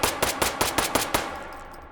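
A P22 .22 LR pistol fired rapidly in the virtual reality shooting game H3VR, seven sharp evenly spaced shots in quick succession, loud and close, followed by a fading echo tail.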